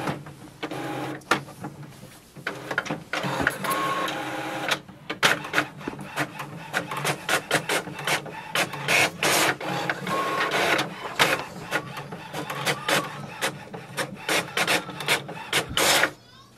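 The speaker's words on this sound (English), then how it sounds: "select any document you want to print, click on the print icon, select your printer and click on the print button again" An HP OfficeJet 8015 inkjet printer printing a document: rapid mechanical clicks and rasping paper-feed strokes in uneven bursts, close and moderately loud, with brief pauses between passes.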